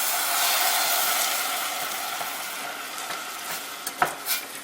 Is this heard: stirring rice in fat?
yes